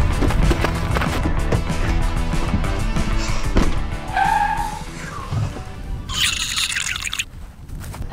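A driverless cartoon car speeds along with a loud engine roar and tire squeals, mixed with chirpy sound effects and a brief high screech near the end.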